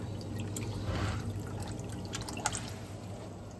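Boiled water is poured into a large batch of chicken biryani rice, a soft steady trickle and splash heard quietly and close, with faint drips and no talking.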